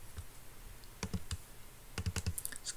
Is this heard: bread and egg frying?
no